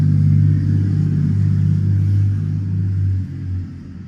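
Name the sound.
car passing outside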